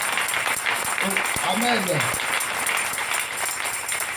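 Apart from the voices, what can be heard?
congregation applauding the Lord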